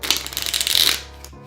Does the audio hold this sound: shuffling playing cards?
yes